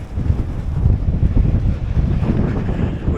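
Rough ocean waves surging at a beach on a rainy day, heard as a heavy, continuous low roar mixed with wind buffeting the microphone.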